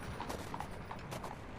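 Horse hooves clip-clop in a brisk, uneven rhythm on a street, a soft sound effect in a Christmas Carol audio drama set among carriages in old London.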